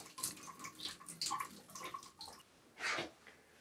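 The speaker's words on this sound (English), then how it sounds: "There's just a little bit of water left in the pipes that's coming out." Leftover water trickling from household pipes at a faucet with its cartridge removed, a faint, irregular splashing and dribbling in short bursts into a sink, close and quiet.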